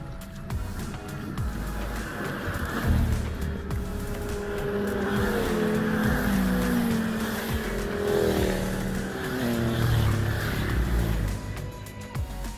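Cars and motorbikes pass one after another on the Col du Galibier mountain road in the Alps, their engines swelling and fading at close range in a steady stream of traffic.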